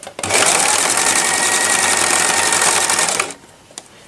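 A sewing machine runs a steady straight stitch along the edge of a dyed fabric ribbon, loud and close, whirring continuously for about three seconds before stopping abruptly.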